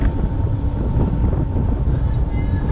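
Steady wind buffets a fishing boat at sea on a chilly, breezy morning at the start of an overnight trip from Hubbard's Marina, a constant roar of wind noise on the microphone with voices faintly mixed in.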